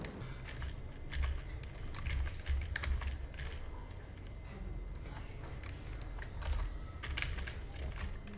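Someone types steadily on a computer keyboard while entering text in CorelDRAW, producing a continuous run of close, light key clicks with irregular rhythm and no talk.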